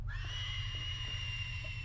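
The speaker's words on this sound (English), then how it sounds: "I heard a scream." A drawn-out, high-pitched scream from Slender: The Arrival, steady and sustained through the clip, heard alone over a low hum.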